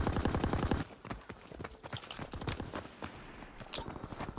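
Rifle and machine-gun fire aimed at advancing tanks in Call of Duty: WW2 crackles in a dense fusillade, with rapid bursts and scattered single shots of mid loudness across a wartime battlefield.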